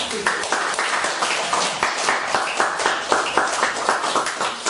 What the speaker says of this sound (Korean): 이쯤에서 박수를 한번 쳐야 돼요